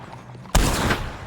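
A single loud, sharp gunshot from a Carcano rifle in Red Dead Online, cracking out close and decaying into a brief rumbling echo.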